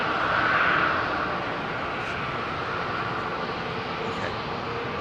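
A jet airliner arriving on the southern runway at London Heathrow, a broad steady engine roar that swells slightly at first and then holds level, heard at a distance with no talk.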